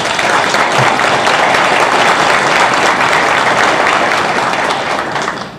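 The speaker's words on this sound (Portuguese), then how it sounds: "Pedir uma salva de palmas" Loud, dense applause fills a lecture hall at a tax law event, a steady roar of many hands clapping that holds evenly before easing off at the very end.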